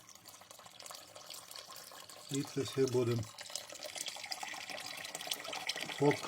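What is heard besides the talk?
pouring a litre of water into a pot of sugar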